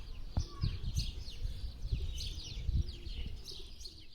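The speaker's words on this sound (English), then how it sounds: "I watched a pair of sparrows enjoying a bath." A pair of sparrows bathing outdoors in Gropiusstadt, Berlin, give quick, bright chirps in scattered bursts. Soft low fluttering thumps sit beneath the chirps, fairly close and moderately loud throughout.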